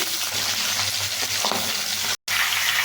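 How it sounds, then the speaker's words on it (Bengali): Steady crackling sizzle of fish heads frying in hot oil in a wok, continuous and close, with a brief moment of silence near the end. "কড়াইতে তেল দিয়ে নিয়েছি মাছের মাথাগুলোকে আমি ছাড়ছি"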